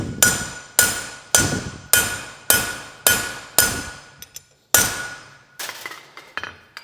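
A hammer forges dark cherry red hot steel on an anvil, striking in a steady series of loud, ringing metallic blows with a brief pause before the final few hits.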